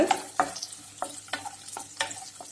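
Square-cut capsicum sautéing in a kadai for kadai paneer, a soft sizzle broken by repeated sharp scrapes of a spoon stirring against the pan, close and alone without any voices.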